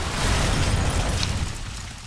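Arma 3 helicopter crashing with an explosion: a heavy, low rumbling boom that swells at once and slowly fades over about two seconds, loud and close.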